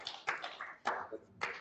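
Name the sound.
audience clapping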